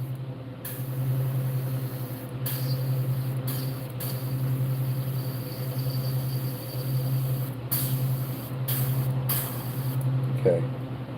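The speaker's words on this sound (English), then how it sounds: "I just want to make sure that this sprays." An airbrush sprays paint in repeated short hissing bursts with brief pauses, heard close over a steady low background hum.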